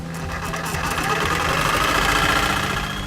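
Sawzall reciprocating saw cutting through pipe at a marked 2.5 inch point, giving a steady, loud buzzing drone that runs unbroken for the whole stretch.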